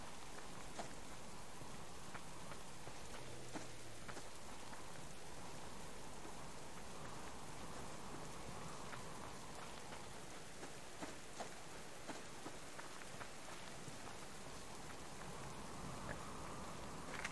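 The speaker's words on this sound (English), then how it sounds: "The rain and wind comes through." Steady rain with gusting wind in the survival game Subsistence, a faint, continuous wash of pattering drops with no voices.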